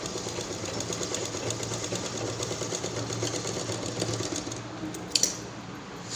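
A sewing machine runs steadily while stitching a cloth purse, a fast even mechanical whir with rapid needle chatter, close and continuous, ending in a couple of sharp clicks as it stops.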